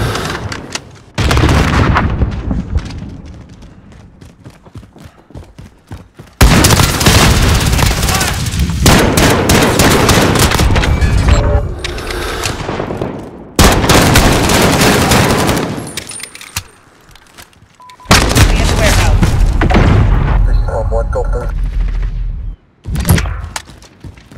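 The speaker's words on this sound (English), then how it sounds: "Throwing grenade! Taking fire!" Heavy gunfire and explosions from a Call of Duty Modern Warfare team deathmatch, with loud sustained bursts of automatic fire and booms in several dense stretches separated by brief lulls.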